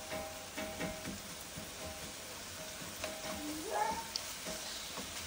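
Ground meat browning in a home kitchen pan, a steady low sizzle with light stirring scrapes and a few soft clinks, fairly quiet and close.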